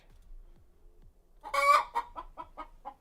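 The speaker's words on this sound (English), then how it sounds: "That's a chicken." Chicken clucking from the video game Palworld: a loud burst of squawking clucks followed by a steady run of about five shorter, evenly spaced clucks, heard alone without talk.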